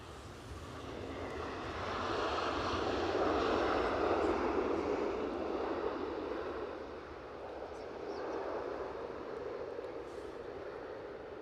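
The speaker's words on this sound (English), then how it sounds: "Montreal departure first with Air Canada." An Air Canada airliner departs Edinburgh Airport bound for Montreal, its engine roar swelling broad and steady for several seconds, easing, then rising again, with faint voices talking underneath.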